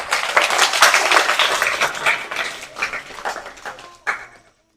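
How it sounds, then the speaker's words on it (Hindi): Classroom of students claps for a classmate's weekly test score, a burst of close, uneven hand claps that fades and stops with a final short flurry. "इसके लिए तालियां"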